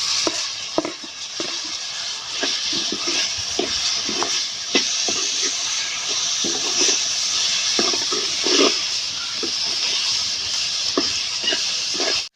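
Spices and chopped tomatoes sizzle steadily in a hot pan for aloo kadhi, a potato and gram-flour curry, with frequent light spoon scrapes and taps as the mix is stirred throughout.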